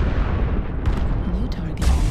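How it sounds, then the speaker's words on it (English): Airstrike explosions thunder in the mech combat game MechWarrior Online, a dense rolling rumble with several sharper blasts punching through, loud and continuous under faint voice activity. "Airstrike going down."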